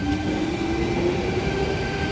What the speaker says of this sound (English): And I believe the Waterfall train should just be arriving now.